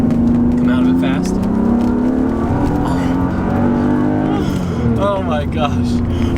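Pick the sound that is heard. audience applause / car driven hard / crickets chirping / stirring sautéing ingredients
car driven hard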